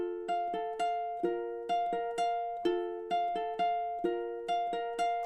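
Fingerstyle ukulele intro of a song, played as a steady flow of bright plucked notes in a repeating arpeggio pattern, close and clear, with notes ringing into each other and no voice.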